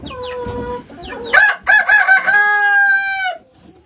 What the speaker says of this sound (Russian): Значит, куры породы леггорн.